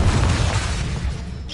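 Blasting Confringo spell explosion in the video game Hogwarts Legacy, a loud, dense boom that rumbles low and then thins out over a second and a half, with no voices.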